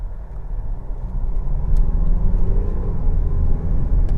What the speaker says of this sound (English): we want to have a feel of that 6-speed automatic transmission kicking in